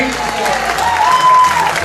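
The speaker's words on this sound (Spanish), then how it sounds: "Venga el aplauso" A crowd applauds steadily with broadband clapping at a Zumba event in Azkoitia, while a voice speaks loudly in Spanish over it.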